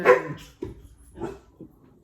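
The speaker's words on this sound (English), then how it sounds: "Sorry about the boys, the dogs." Dogs bark indoors in a few short, separate bursts, a louder yip at the start followed by three softer barks spaced about half a second apart, fairly close by.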